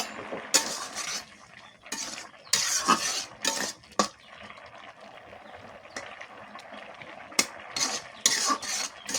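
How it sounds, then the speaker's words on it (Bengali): Jackfruit seed curry stirred in a pot, with scattered metallic clinks and scrapes of a spoon against the pot over a soft simmering bubble, some knocks louder and closer than others. "এখন আমি তরকারিটা লাড়াটা দেখে নিতেছি বিচিগুলা সিদ্ধ হয়েছে কিনা"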